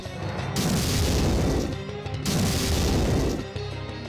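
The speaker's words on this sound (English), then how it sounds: "No, go into the explosions" Two heavy booming explosions in Valkyria Chronicles 3, a battlefield video game, each a dense, loud blast of roughly a second and a half, separated by a brief pause with a low rumble tailing off after the second.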